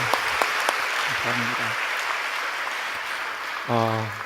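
A large church rally crowd gives a steady wash of applause to welcome a pastor to a talk show stage, with a speaking voice briefly heard at the beginning and again at the end.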